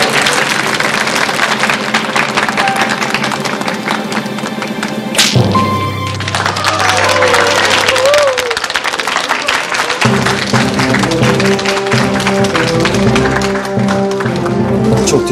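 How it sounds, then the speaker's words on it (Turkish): A small group claps for a man's street-style performance in a Turkish drama scene, a dense patter of applause over music, with people talking throughout. "Hani alkış?"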